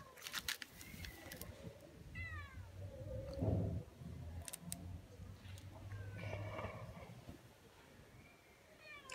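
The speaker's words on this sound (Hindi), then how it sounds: "ये देखें बिल्ली हमारी आ रही है" A house cat meows several times at close range, short rising calls spaced a few seconds apart over a quiet indoor room with faint background clatter.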